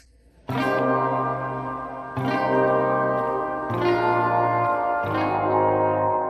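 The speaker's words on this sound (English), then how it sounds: "And Spatial Vowels, where you can even create a reverb that will sound..." Tonal, reverberant synth chords processed through the Spatial Vowels reverb algorithm of the SpaceWalk Saturn plugin, four loud sustained swells with long washy tails and shimmering vowel-like resonances, no voices.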